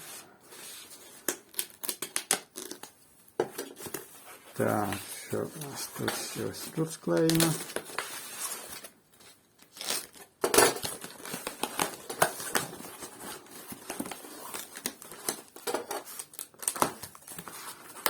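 Scissors cutting packing tape on an AliExpress parcel padded with foam, with scattered snips, crinkles and rustles close by under ongoing talk.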